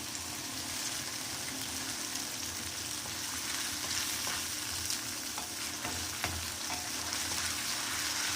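Garlic-ginger paste for a black chana masala sautéing in a hot pan, giving a dense, continuous frying hiss with faint stirring scrapes throughout.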